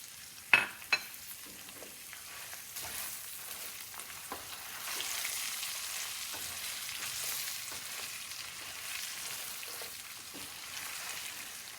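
Spices being stirred into a ginger-chilli pickle, a soft scraping and mixing texture with a couple of sharp spoon clinks near the start, quiet and close with no talking.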